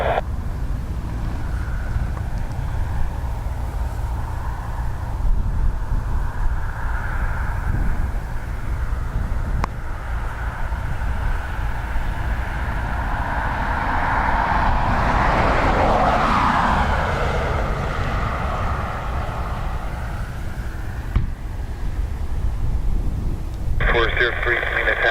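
An Emirates Boeing 777 takes off from Dublin Airport's north runway, a steady distant jet roar that swells to a broad rumbling peak midway and then fades, with wind buffeting the microphone throughout.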